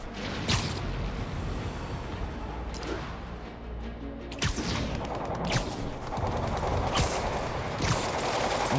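Gunfire on a rooftop in the Marvel's Spider-Man Remastered video game, scattered sharp bursts of shots with mechanical clatter over a continuous city-action din, fairly loud and close.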